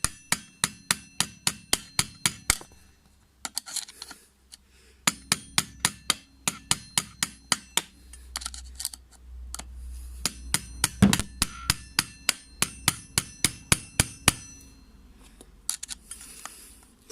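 Sharp hammer-like taps strike the edges of a new part for an Aprilia SR 50 motard, coming in quick close bursts of evenly spaced knocks separated by brief pauses.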